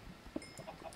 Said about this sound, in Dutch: Waarom zit hier zoveel kippen onder de grond?